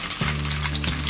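Garlic cloves and peanuts fry in hot oil, making a brief, steady, close crackling sizzle over a low hum.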